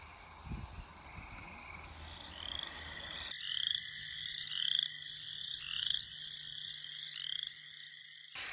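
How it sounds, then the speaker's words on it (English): A small tree frog calls up close at night, a series of rapid, high rattling croaks repeating in bursts with short pauses, clear over a quiet background. "Okay, guys, here's the little tree frog."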